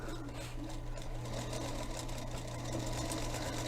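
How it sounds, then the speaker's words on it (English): A Featherweight sewing machine runs steadily, its close, continuous motor hum and rapid needle chatter holding even throughout while fabric is stitched and gathered. "So as I'm sewing,"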